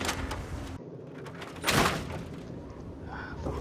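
A door opening in the video game Fallout 3, heard as a short mechanical slide and thud rising from a busy game background, moderately loud for about a second.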